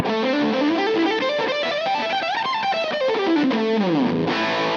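A Gibson SG electric guitar plays pentatonic lines through a heavy fuzz tone, loud and continuous, with rising and falling runs of notes and sustained distorted bends.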